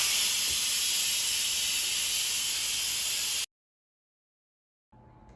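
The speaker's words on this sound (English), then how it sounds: "Now the Instant Pot is done cooking, so let's quick release the steam." An Instant Pot's quick steam release gives a loud, steady close hiss for about three and a half seconds, then cuts off abruptly into silence before faint room noise returns.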